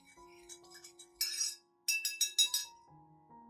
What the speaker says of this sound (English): Then stir thoroughly until everything is evenly mixed.